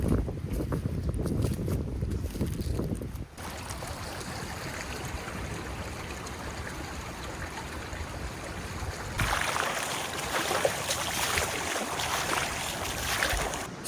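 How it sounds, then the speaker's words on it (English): Strong wind gusting through a wooded Kentucky hollow, a loud roaring rush buffeting close to the microphone that rises and falls over several surges, with no voices. "This wind is really starting to pick up."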